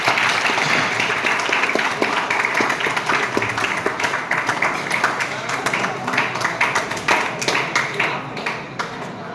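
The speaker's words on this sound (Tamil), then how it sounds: "இன்னும் கொஞ்சம் நேரம் கை தட்டலாம்." A hall audience at an anti-ragging motivational talk applauds a poet, dense sustained clapping from many hands, loud and close, easing slightly toward the end.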